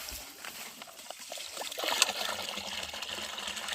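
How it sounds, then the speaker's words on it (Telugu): Water drawn and poured by hand at a forest village water source, a soft trickling and splashing stream that rises and continues steadily, moderately near, with no talk over it. "మన కోసం లిపి చెల్లి అయితే నీరు తోడుతుంది"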